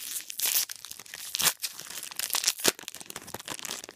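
A wrapped pack of 2016 Select AFL football trading cards is torn and crinkled open, with close, irregular bursts of crackling and ripping wrapper noise and no talking.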